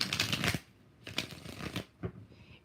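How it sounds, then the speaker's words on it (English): Tarot cards shuffled by hand during a live reading, three quick riffling bursts that fade toward the end, close and fairly quiet, with no talk. "3 more shuffles."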